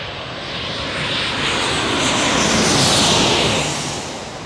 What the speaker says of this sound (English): here comes our Southwest Airlines 737-700 about to land